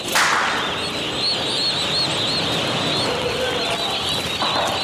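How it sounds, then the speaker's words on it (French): Turkey poults imported from France peep and chirp in a dense, continuous chorus of high cheeping calls, heard close and fairly loud when their transport box is opened in Côte d'Ivoire. "Ce soir, entouré de ses employés, Maferima réceptionne des dindonos venus de la France."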